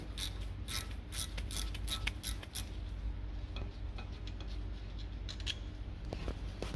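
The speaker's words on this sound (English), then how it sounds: "just get the 18 on the inside and hold that while you undo it" A spanner working loose a front brake caliper bolt on a VW Golf GTI Mk7, heard as steady rapid ratcheting clicks and metallic mechanism noise, close and continuous with no talk.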